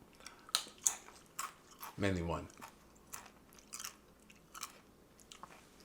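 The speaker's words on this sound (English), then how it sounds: "Sorry, I'm chewing." A person chews food close to the microphone, with several soft crunchy bites spaced irregularly, and briefly speaks partway through.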